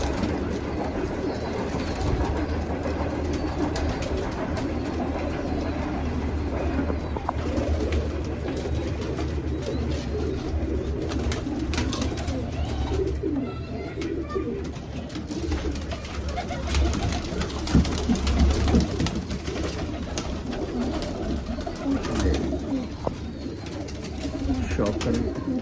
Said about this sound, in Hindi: ये जी शेखुपुरी कबूतर है जी